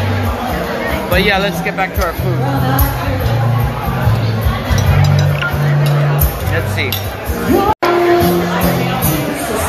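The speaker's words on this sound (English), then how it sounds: "the only way I can get you in with all that sound of the crowd is to give you the crowd" Dense crowd hubbub fills a busy food venue, steady babble and clatter throughout, with a nearby voice talking over it.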